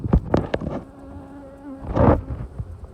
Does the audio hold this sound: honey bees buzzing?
yes